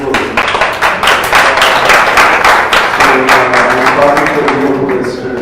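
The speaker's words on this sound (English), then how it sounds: "Please give an applause." Steady, loud applause fills a room of leaders gathered at a devotional program, many hands clapping together continuously, with a faint voice and some murmuring audible beneath the clapping in the second half.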